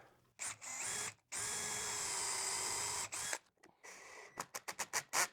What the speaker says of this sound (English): I'm going to pre-drill a hole in the back of the tree